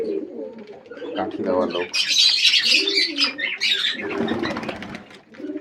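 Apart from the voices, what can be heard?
pigeons cooing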